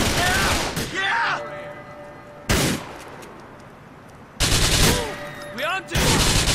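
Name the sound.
gunfire in a shootout, from the video game GTA IV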